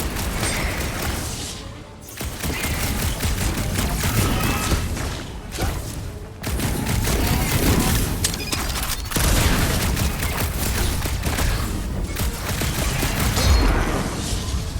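Dense, continuous gunfire and booming impacts in Marvel's Guardians of the Galaxy video game as jelly creatures are shot, a loud sustained barrage with brief dips between volleys.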